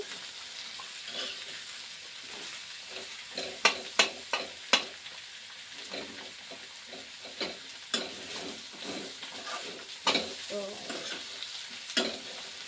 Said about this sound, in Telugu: ఇలా ఫ్రై చేసుకుంటామండి. ఇది క్రంచీగానే ఉండాలండి.